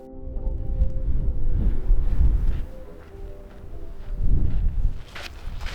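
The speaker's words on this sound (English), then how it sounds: "wind was a bit mad" Strong wind gusting across the roadless Sahara Desert, buffeting the microphone in low rumbling surges that rise and fall, with no talk.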